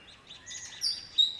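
A lyrebird imitates a red wattlebird's call in a series of short, high chirps and a few sharper notes, faint and fairly close in an otherwise quiet setting.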